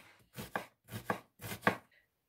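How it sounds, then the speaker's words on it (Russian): Knife chopping onion on a board while making soft sour-cream dough for chebureki: three short bursts of quick, close cutting strokes, each a tight cluster of crisp chops separated by brief pauses, with no talk. "Лучок я режу не очень мелко."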